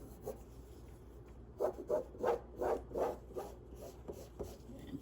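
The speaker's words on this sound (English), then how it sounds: "you're just lightly tracing" Lightly tracing a drawing onto quilt fabric produces soft rhythmic rubbing strokes, about six in a steady run near the middle, close and quiet with faint background hiss.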